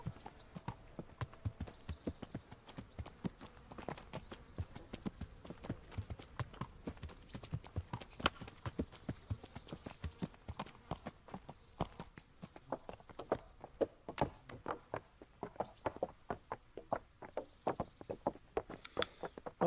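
Horse hooves clip-clop steadily on the ground in Kingdom Come: Deliverance, a dense, close run of sharp hoof strikes lasting throughout, with no talk over it.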